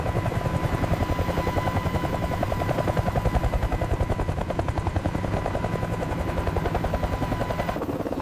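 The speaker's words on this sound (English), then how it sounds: "Соосная система несущих винтов работает безупречно." Close, loud rhythmic blade chop from a Ka-52 helicopter's coaxial twin main rotors in flight, a steady rapid thumping over a continuous turbine whine.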